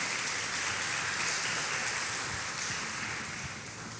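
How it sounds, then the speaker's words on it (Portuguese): Steady church congregation applause fills the whole stretch, a dense wash of clapping that holds evenly and fades slightly toward the end. "Pode aplaudir assim."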